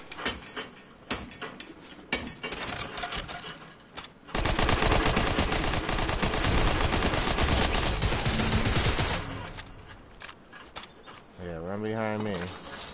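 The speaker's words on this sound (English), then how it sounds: "Who is he up there shooting at," Rapid bursts of gunfire in the video game Fortnite, loud and dense for several seconds in the middle, with scattered shots before and after and a player talking at times.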